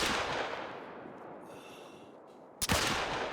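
A single sharp .45 Rolleston handgun shot fires in theHunter: Call of the Wild, loud and abrupt, breaking through a dying rumble of ambient wind-like noise near the end.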